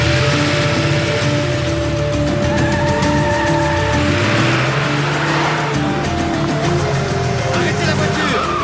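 A car engine revs and the car pulls away with a squeal of tires, loud and close, rising in pitch as it accelerates, with shouting voices over the scene.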